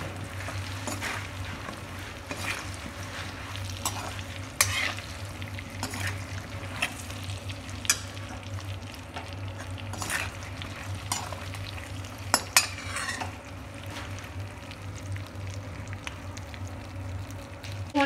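Dry spices frying in a kadhai for aloo baingan, a continuous close sizzle with repeated scraping strokes of a spoon, a few sharp metallic clacks against the pan, and no speech.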